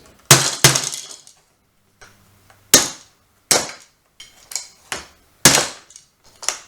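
A hammer smashes open a plastic Elmo toy in a series of sharp cracking impacts, about six loud hits with short pauses between them and a clattering of plastic pieces.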